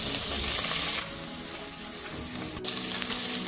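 Cumin, a dry chilli, curry leaves and onion crackle loudly in hot oil as a dense, hissing sizzle that drops briefly in level and then surges back.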